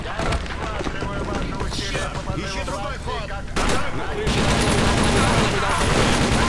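Rapid gunfire exchange in the shooter game TimeShift, dense overlapping shots and impacts that run loud and continuous the whole time, with a brief dip before growing even heavier near the end.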